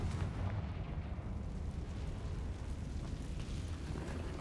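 A Confringo spell in Hogwarts Legacy sets off a low, rumbling explosion that rolls on as a steady, muffled boom and debris noise, fairly quiet and heard alone.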